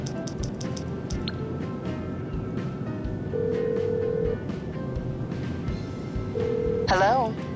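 Phone call being placed in GTA 5, with electronic tones sounding over a steady game background and ending in a brief warbling ring near the end, while people talk.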